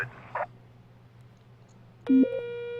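Telephone tone in the 911 Operator dispatch video game, a loud steady electronic ring starting near the end after a brief muffled sound and quiet background.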